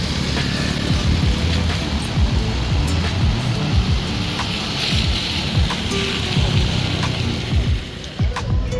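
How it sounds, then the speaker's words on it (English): Steady broadband hiss of rain beginning to fall in Mexico City, with scattered low thumps and rumble underneath, continuous and fairly loud throughout. "Starting to rain."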